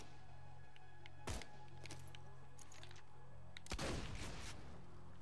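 Two separate gunshots in Borderlands 2, a sharp crack followed a few seconds later by a louder, longer blast, set against a steady low hum and faint background clatter.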